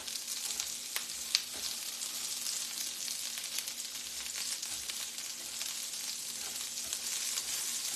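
Onions soften in a hot pan with a continuous close sizzle and a few small crackles and clicks, steady and uninterrupted, with nobody speaking.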